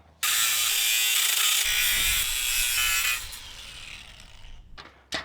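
Power tool cutting notches into an aluminum fence panel: a loud, harsh, steady cutting roar for about three seconds, then a quieter trailing rasp and a couple of brief knocks at the end, with no talking.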